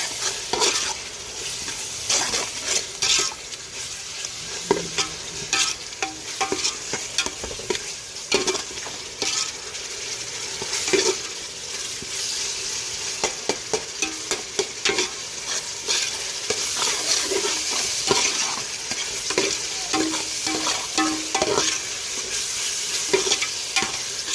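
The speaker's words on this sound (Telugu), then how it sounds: "మసాలా మొత్తం అయితే బాగా మగ్గుతూ ఉన్నాయి కదండి" Masala with ginger-garlic paste and coconut paste fries in a pan, with a steady sizzle, the scrape of a spoon stirring, and occasional clinks of the pan, close and loud with no talk.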